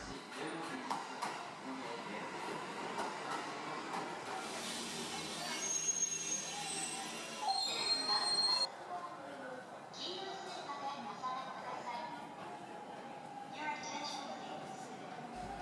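A local train in Japan rolls along the rails with a steady rumble and a hiss of wheel noise, brief high squeals partway through, and a voice talking over it.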